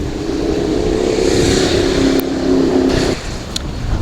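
A car accelerating on a road through hilly country between Kopeng and Purworejo, a steady loud engine drone with a rising tone that cuts off sharply, followed by quieter road noise.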